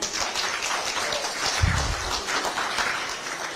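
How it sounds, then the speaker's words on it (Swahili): Media members at an Azimio and COTU meeting applaud in a dense, steady patter of many hands that stays moderately close for the whole stretch. "tupige makofi"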